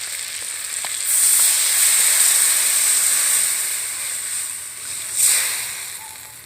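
Water poured into a pan of fried crab for a tamarind sour dish: a loud, sharp steam hiss bursts out and slowly fades, then flares again briefly near the end.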